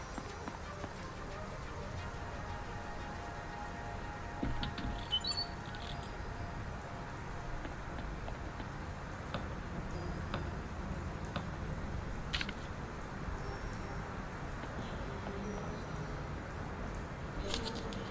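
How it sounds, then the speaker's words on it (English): Heavy rain pours down steadily in the video game Dyschronia, a continuous dense patter with no pauses, staying at an even level from start to finish with a few faint clicks. "The rain's really coming down now."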